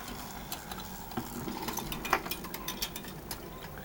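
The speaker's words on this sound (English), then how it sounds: "So I'll turn the key to start the flywheel motion." A key winding the gyroscopic flywheel of a tin toy robot gives faint, irregular ratcheting clicks and ticks close by, with no talk.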